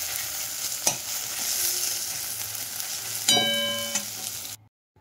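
Chopped onion frying in oil in a pan until brown, a steady soft sizzle with a few stirring scrapes and one bright metallic clink before it cuts off abruptly.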